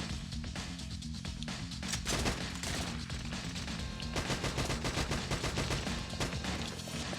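Sustained rapid gunfire from the video game Ghost in the Shell: Stand Alone Complex, dense bursts of automatic shots over a constant rumbling game soundtrack, loud throughout.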